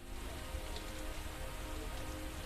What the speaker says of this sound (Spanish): Esta peculiar y extraña lluvia que apareció de la nada moja una sección bastante grande del vecindario.